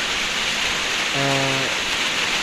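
A dense, steady hiss of rain pouring down, constant and enveloping, with a brief low humming tone partway through.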